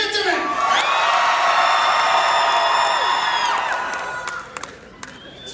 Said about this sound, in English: scream loud enough that the news thinks we're having an earthquake